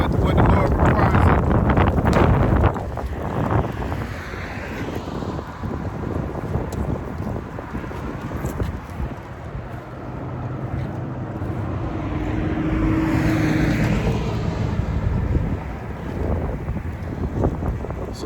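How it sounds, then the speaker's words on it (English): Gusts of wind buffet the microphone in loud, rumbling blasts that rise and ease over time, with voices faintly mixed in. "Got windy and cold out here today."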